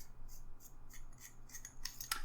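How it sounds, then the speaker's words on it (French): The body of a vintage 1980s Pilot Korea Judan fountain pen is twisted off, giving faint, close-up scratchy rubbing and small clicking sounds from the threads, sharpening into crisp ticks near the end. "Le corps se dévisse"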